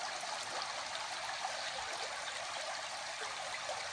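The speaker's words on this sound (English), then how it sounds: "Look at these rapids." Steady, rushing broadband roar of river rapids in a wilderness area, continuous and even throughout with no voices.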